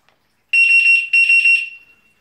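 A wireless bicycle anti-theft alarm emits a shrill, piercing electronic tone in two pulsing bursts separated by a brief gap, close and loud, with silence before and after.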